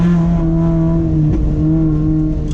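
An NC Miata with a swapped 2.5 liter Ford Fusion engine drives, heard as a loud, close, steady engine drone from inside the car. The note holds, then dips slightly, and a brief sharper sound comes at the end.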